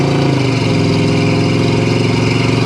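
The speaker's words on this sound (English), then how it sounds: "you hear that exhaust?" A 1972 Oldsmobile Cutlass's deep, throaty exhaust rumbles steadily and loudly, with a pulsing low drone as the car cruises.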